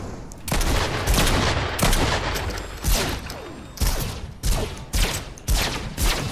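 Loud, close gunfire in the video game Fortnite, with rapid bursts and repeated sharp shots in an uneven rhythm over a busy game background, with no talking.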